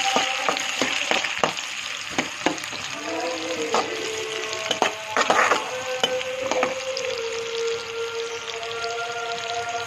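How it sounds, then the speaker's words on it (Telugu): Chopped onions and cumin seeds frying in hot oil for a prawn curry, giving a steady close sizzle with scattered pops and crackles and occasional stirring clinks throughout. "జీలకర్ర వేసుకోవాలి, ఆనియన్స్ వేసుకోవాలి, అది బాగా ఫ్రై చేసుకుందాం."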